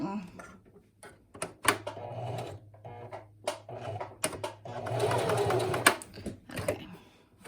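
A sewing machine back stitching along the facing of a patch pocket, running in short bursts and a longer steady run, with stops and clicks between passes.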